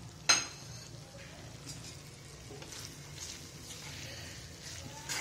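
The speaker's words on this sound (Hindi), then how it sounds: "इन सभी चीज़ों को अच्छे से मिक्स करेंगे।" Kheema samosa filling with chopped coriander and mint leaves being stirred in a pan: a sharp utensil clink at the start, then soft scraping and mixing with a faint sizzle, close and quiet.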